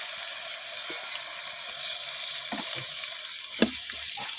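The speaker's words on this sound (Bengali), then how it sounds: "এখন আমি তেলের মধ্যে দিতেছি কাঁচা পেঁয়াজ।" Raw onion hits hot oil in a kadai and sizzles steadily and loudly close by, with a few sharper crackles and stirring clatters along the way and no talking.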